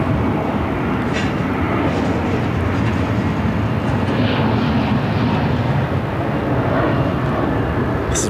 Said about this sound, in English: This is WestJet flight 1492 coming in from Calgary. 737 MAX 8.